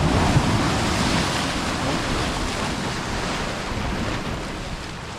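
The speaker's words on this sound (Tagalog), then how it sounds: "Tingnan yung alon guys, oh." Continuous ocean waves roar and hiss close by, a dense, unbroken wash of surf with some wind.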